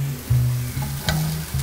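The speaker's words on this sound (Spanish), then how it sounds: "Entonces vamos a sofreír hasta que estén bien cocinados, principalmente el chile, ya que este es un poquito más durito que la cebolla." Chopped chili and onion sauté in a hot pan with a loud, close sizzle, broken by a few short scraping stirs over under two seconds, and no voices.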